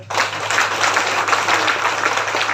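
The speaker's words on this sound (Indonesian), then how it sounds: "Tepuk tangan dulu." An audience at a regent's official visit to a sub-district in Alor claps together in a dense, even burst of applause. The clapping is close and sustained for a couple of seconds, with no voice over it.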